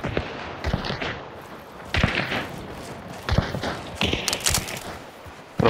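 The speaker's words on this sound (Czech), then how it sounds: "Pravo to střílí někdo." Gunfire in the video game Hunt: Showdown: several sharp, distant shots and thumps scattered irregularly across a quiet background.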